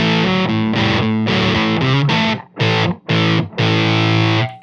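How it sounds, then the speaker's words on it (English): Electric guitar played through a Sputnik 3 fuzz pedal: a thick, saturated run of chords and notes, then three short, choppy stabs separated by brief gaps, loud and alone with no talking. "So I have a Sputnik 3 going here, and it sounds like this."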